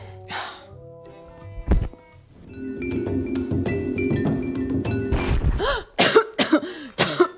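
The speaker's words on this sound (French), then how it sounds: "Heureusement que j'ai commencé à tousser." Several close, loud coughs from a tired woman, after a stretch of steady background sound.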